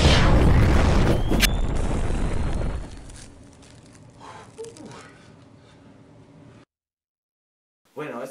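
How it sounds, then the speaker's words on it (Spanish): An Iron Man-style energy blast: a loud blasting burst opens with a roaring whoosh and crackle, decays into a fading hum, then falls silent before a brief noisy tail. "Ahora, con un disparo de Iron Man."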